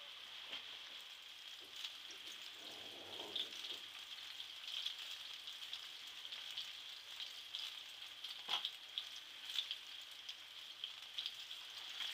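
Stuffed plantain frying in a pan, a faint steady hiss of hot oil with small pops, one brief knock partway through, quiet and without talk.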